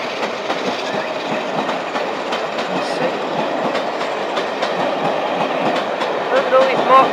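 Rail Operations Group diesel locomotive 47815 passes hauling Mark II coaches at a station, a loud steady rumble with rhythmic clickety-clack of wheels over rail joints throughout.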